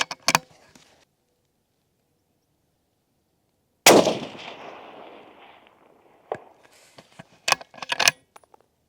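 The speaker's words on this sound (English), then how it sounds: "let's send the first shot downrange." A single loud 6.5 PRC rifle shot fired downrange, with a sharp crack and a long decaying echo, then a few clicks and handling noises of the rifle action.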